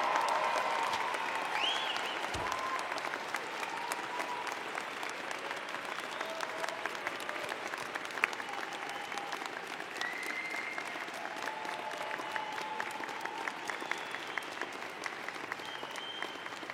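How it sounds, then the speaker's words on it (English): A crowd at a Fall 2018 graduation ceremony applauds the graduating class, a sustained dense wash of clapping that carries on evenly for a long stretch. "join me in applauding the amazing graduating class of"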